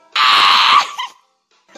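A person lets out a single loud, sustained scream as a funny noise, lasting over half a second before breaking off into a short trailing vocal sound, then near silence.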